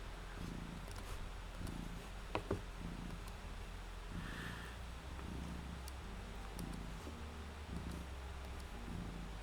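A cat purrs in a low, rhythmic rumble, each pulse rising and falling with its breathing, close and steady, with a few faint clicks and knocks in the background and no speech.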